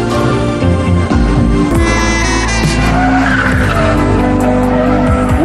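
A car drifts around a racetrack with loud, sustained tire squeal over a roaring engine, the screeching rising and falling as it slides through the corners.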